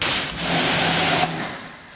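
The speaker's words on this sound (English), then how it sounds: "Exhaust." BMW E36 M3 engine running at a close microphone, a loud steady roar that holds for a little over a second, then drops to a lower idle rumble.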